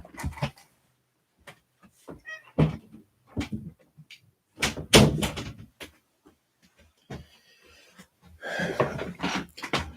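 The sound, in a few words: door opened to let a cat out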